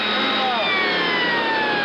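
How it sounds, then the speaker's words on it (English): A vacuum cleaner runs at steady full power, a loud continuous whirring drone close by with a faint falling whine. "I'd take the vacuum cleaner and vacuum all over the place"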